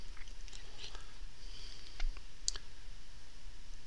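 A single computer mouse click stands out clearly against a faint, quiet room background while Symantec Backup Exec 2012 is being installed, with a few softer tapping sounds around it.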